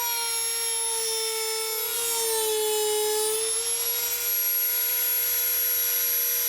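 A high-pitched Dremel rotary tool whines steadily while sanding an edge, its pitch dipping briefly as it bears down on the workpiece, then recovering.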